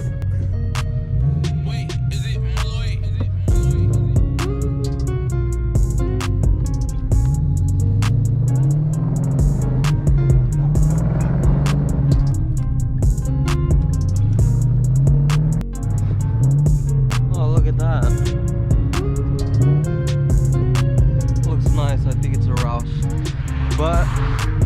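Continuous engine and road drone from inside a car on a drive, fitted with a billet grille and intake on a first-generation Coyote, steady and loud throughout with some shifting pitch under occasional voice.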